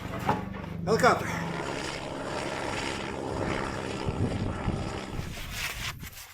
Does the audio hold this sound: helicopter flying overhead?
yes